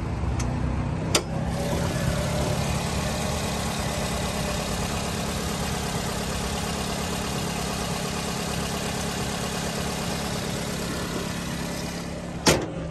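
A 2009 Nissan Versa automatic four-cylinder idles steadily under the open hood, a smooth even hum heard up close, with a sharp click near the start and another near the end.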